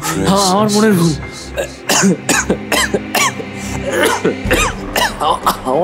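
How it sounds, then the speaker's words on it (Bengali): Harsh, strained coughing in a dramatized scene, several bursts and throat-clearing sounds set between spoken lines, with a voice also speaking close by. "আমার আবার কাশি"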